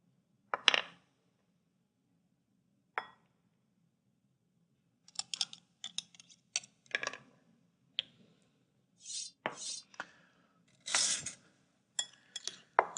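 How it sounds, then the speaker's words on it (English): Beets are mixed with vinaigrette in a bowl, giving scattered soft clinks and wet scraping taps, quiet and irregular with gaps of silence between them. "I'm going to put them into a bowl, and in effect what I'm going to do is make pickled beets."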